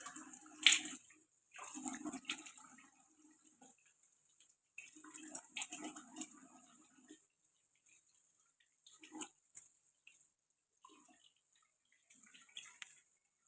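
Someone washes their face with water, faint intermittent splashes and wet rubbing in short bursts separated by quiet gaps, close but low in level, with no talking.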